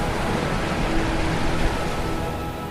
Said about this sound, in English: the sea breeze